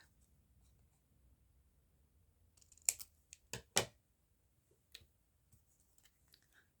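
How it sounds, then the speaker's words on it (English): Scissors snip a tag shape out of a paper pack cover sheet in a few crisp, close cuts, with quiet rustling around them and a near-silent room. "I'm just going to cut the tag shape."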